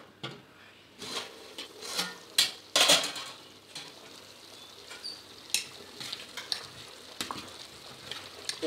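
Goat intestine and blood curry bubbles and sizzles in a covered pot, with a few sharp clinks of a lid and metal utensils scattered throughout, nearby and fairly quiet.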